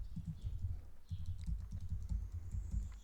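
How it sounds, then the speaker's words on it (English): A password being typed on a computer keyboard, rendered as quick, soft key taps in short irregular runs with a brief pause near the start, close and clear with no talking. "Here you have to type your password in order to close your account."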